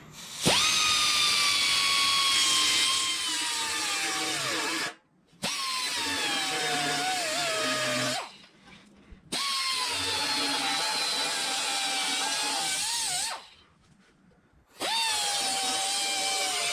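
A drill fitted with a worn-out stripping wheel grinds on a part for a Cobra Jet engine rebuild. It whines loudly and close in three long runs, with short pauses between them and no talking.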